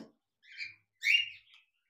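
A few short, bright chirps from a pet cockatiel, one brief call and then a louder, longer chirp with a softer trailing note, heard alone and fairly close.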